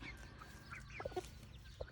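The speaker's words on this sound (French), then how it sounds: "des poules Sussex" Sussex hens clucking softly in short, scattered calls over a steady low background rumble, fairly close.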